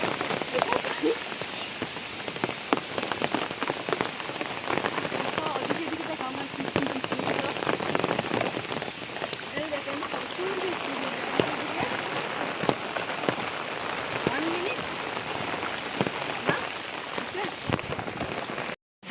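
Steady heavy rain patters and splashes close by on a rooftop, a loud continuous roar with scattered sharper drops, ending abruptly.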